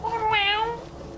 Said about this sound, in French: mon chat revient.